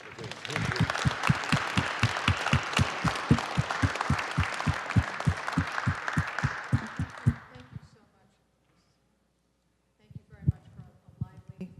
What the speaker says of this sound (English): How about a round of applause for Morris?